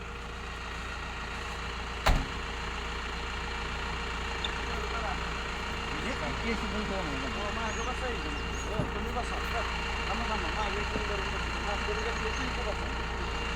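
A car engine hums steadily and close at low volume as the vehicle turns toward a well and an open yard, with faint voices over the drone.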